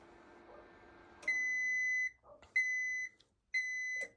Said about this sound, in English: an alarm will go off